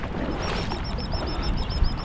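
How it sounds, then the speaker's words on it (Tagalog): An unusual bird calls with a rapid run of high, repeated chirps over loud, steady outdoor noise near water, the calls continuing evenly throughout. "Makaibang ibon yun, no?"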